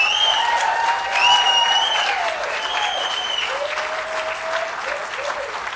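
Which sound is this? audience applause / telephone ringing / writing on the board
audience applause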